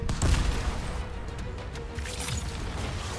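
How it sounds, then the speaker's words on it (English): Gunshots striking the player in the shooter game Anthem come as a dense, muffled patter of impacts and shots under a steady low rumble, fairly loud and continuous. "Oh, I'm getting peppered here by a lot of shots."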